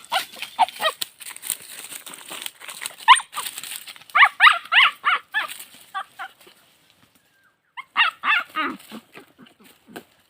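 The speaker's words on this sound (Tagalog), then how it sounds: "ang ingay ng aso namin guys oh" A dog barks in quick bursts of repeated, high-pitched yaps, close and loud, with a short quiet gap before another flurry.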